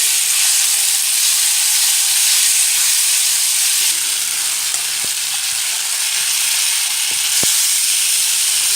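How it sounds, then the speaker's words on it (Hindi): Raw green mango pieces fry with browned onions in a pan, a loud, steady sizzle and hiss throughout with a few faint knocks of stirring and no talk. "अब इसमें हम कच्ची अम्बी डाल देंगे। ये बिल्कुल तैयार है। इसको इसमें फ्राई करेंगे।"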